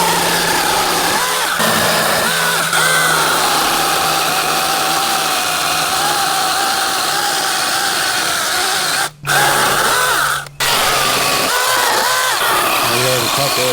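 A SEESII PS620 cordless electric mini chainsaw, a 6-inch pole saw used handheld, cutting branches along an overgrown trail, giving a steady high-pitched motor whine with two brief dropouts near the end, while a person talks over it.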